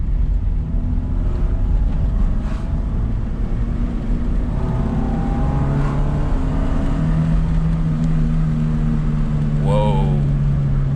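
A 2002 Proton Satria 1.3 GLi with a five-speed manual gearbox drives along in second gear, its engine drone and road rumble steady and loud from inside the cabin, with someone talking over it.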